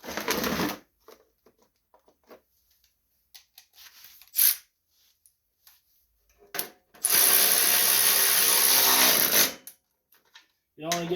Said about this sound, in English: And get them tightened down.